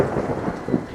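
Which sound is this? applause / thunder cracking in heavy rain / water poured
thunder cracking in heavy rain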